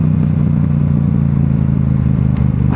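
A Yamaha R7 motorcycle engine pulls hard in third gear from about 30 to 50 mph, a loud, steady, close-up drone with a rising note and no talk over it.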